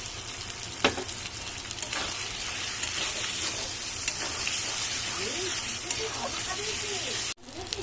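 Cumin, dried and green chilli paste and tomato frying for a mutton curry, a dense close hiss with occasional spatter pops and faint stirring, ending in an abrupt cut near the end.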